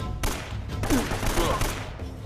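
Gunfire in the video game Uncharted: a dense volley of close shots crackles for about two seconds, with a voice partly audible beneath it.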